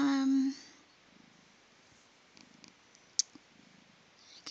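A cat purrs softly up close, a faint pulsing rumble following a brief louder tonal sound at the start, with a small click partway through.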